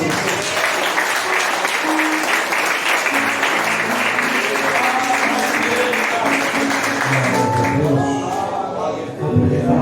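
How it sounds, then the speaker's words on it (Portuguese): A church congregation applauds during an anniversary congress service, a loud, dense, steady round of clapping with some voices and musical tones mixed in, continuing throughout. "Quem pode aplaudir o Senhor?"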